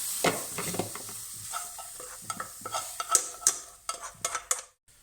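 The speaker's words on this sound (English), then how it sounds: "all I'm going to do now, simply tip these out into another bowl" Cooked mushrooms are tipped out of a frying pan into a bowl: a close series of scrapes, soft clatters and light metallic clinks over a faint lingering sizzle, with sharper knocks near the end.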